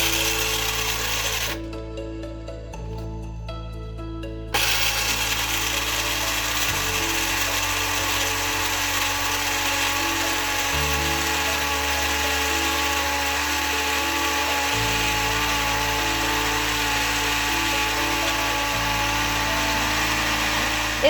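A Mr. Coffee automatic coffee grinder runs with a loud, steady mechanical whir that changes pitch a few times as the beans break down, then halts and starts again. No one talks.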